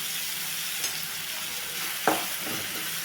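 Vegetables for semiya kichadi get stirred in a hot pan, a continuous frying sizzle broken by a couple of sharp scraping strokes, close and fairly loud.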